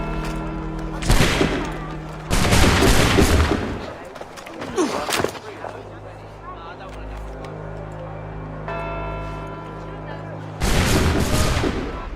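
Musket volley fired in Assassin's Creed III Remastered, several loud broadband blasts in bursts with rumbling tails, over game music and shouting voices.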